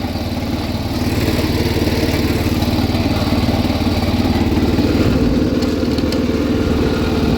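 A 1979 John Deere 216 lawn tractor driving in third gear with a worn variator, giving a loud, steady, rumbling engine drone with mechanical clatter. It sits close by and holds even throughout, and no one speaks.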